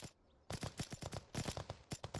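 Gunfire in the video game Drone Perspective comes as a quick irregular string of sharp shots in bursts. It stays fairly faint, with no talk over it.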